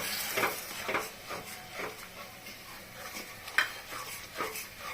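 Whisked yogurt being stirred into paneer biryani masala in a pot, with a spoon scraping and clinking against the metal in an uneven rhythm over a soft background sizzle.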